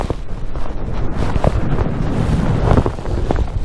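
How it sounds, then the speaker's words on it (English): Strong wind batters a microphone on an exposed Lake District fell near the top end of Ullswater. It makes loud, gusty buffeting and rumbling that surges and dips irregularly throughout. "It's very windy"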